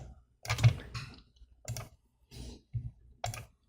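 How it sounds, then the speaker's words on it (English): Computer mouse clicks while working in Toon Boom Harmony software, about seven crisp, close clicks spaced irregularly against near silence. "So I'm just clicking right on the line itself."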